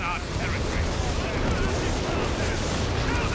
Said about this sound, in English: Pretty good whiz-bang actually on top of the Tiger.